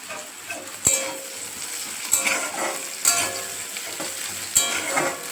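Cumin seeds, bay leaf and onion fry in a hot pan with a steady crackling sizzle, broken by four sharp clinks of a utensil against the pan at irregular intervals.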